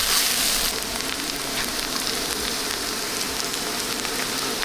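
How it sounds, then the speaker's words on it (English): Sausages and hash browns sear on a metal scuttle grill at an Oregon campsite, giving a steady, dense sizzle and crackle that runs unbroken from start to finish, close and fairly loud, with no talking. "We'll get these nice and seared up and we'll just eat off the scuttle."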